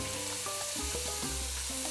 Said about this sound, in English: Yes, that's the winning sizzle.